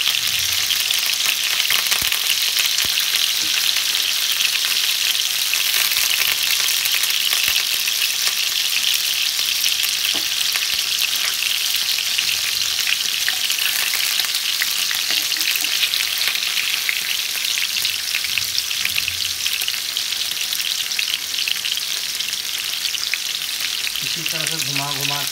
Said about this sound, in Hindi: घुमा घुमा के हमें चारों तरफ से फ्राई कर लेना।